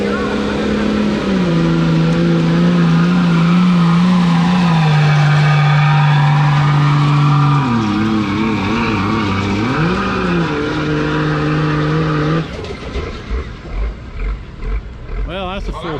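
An orange Ford pulling truck with a big block FE engine roars loud and steady at a truck pull, its engine note holding, dipping and rising, then the tone breaks off into rougher, choppier noise near the end.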